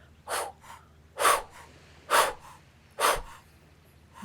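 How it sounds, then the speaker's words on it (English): Four forceful, rhythmic breaths pushed out hard during an energizing morning Kundalini yoga exercise, evenly spaced about a second apart, close and breathy with no talking. "we're really forcing the breath out, building that energy"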